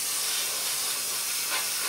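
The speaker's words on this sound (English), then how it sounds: "Now we're going to spray this neat" Paint sprayed neat from an airbrush onto a B-24 model kit makes a steady, close hiss that runs unbroken throughout.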